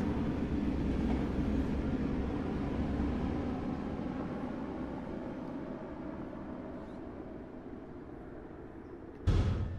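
A train runs on the Antelope Valley line between Los Angeles Union Station and Burbank in Train Sim World 5, a steady low rumble and rolling noise throughout, ending in a brief sharp burst.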